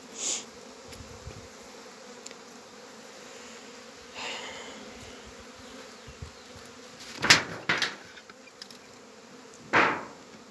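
Honey bees hum softly in a steady, faint drone around their hive, with a few louder buzzes of individual bees passing close to the ear.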